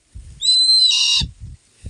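An owl, a native wild bird, gives a single loud, drawn-out whistling call at close range, followed by low thumping handling noises; no one speaks.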